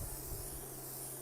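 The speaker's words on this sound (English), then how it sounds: "Cooking spray" Cooking spray hisses steadily from a can into a heating pan, a short continuous close-up spray with no other sound.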